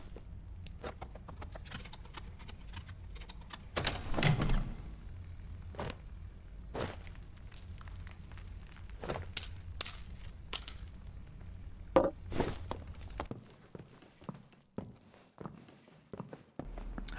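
Footsteps in the video game Dark and Darker, with quiet scuffing steps, metallic jingles like coins or keys, and occasional clattering thuds spread across a dim dungeon ambience. Nobody speaks.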